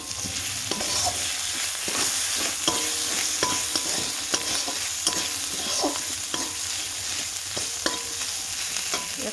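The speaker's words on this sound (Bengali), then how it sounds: "ভালো করে নেড়ে চেড়ে তারপরে হলুদ দিয়ে দেবো।" A spatula scrapes and clacks rhythmically through pumpkin, peas and small chuno fish frying with turmeric, loud and close over a constant oily sizzle.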